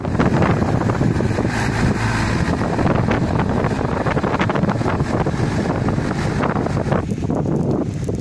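Strong wind buffets the microphone at a harbour where cargo boats sit waiting, a loud, steady, broadband roar that continues without a break.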